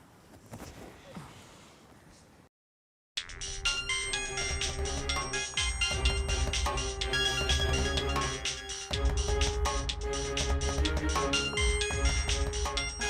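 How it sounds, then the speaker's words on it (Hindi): A mobile phone ringtone plays as a loud, continuous musical melody, with a short silent gap before it starts after faint background noise. A household scene. "किसी नावेद का फ़ोन है?"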